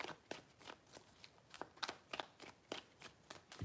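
Tarot cards are shuffled close up in quick rhythmic riffles, about a dozen crisp papery bursts in a row, soft and with no voices.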